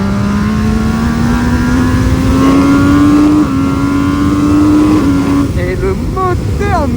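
An MV Agusta Brutale 800 motorcycle's engine revs hard up through the gears, its rising howl stepping between shifts, loud and close.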